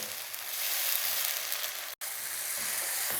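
Tomato paste from three blended medium tomatoes fries with onions in a pan, giving a steady close sizzle for several seconds, broken by one brief silent gap.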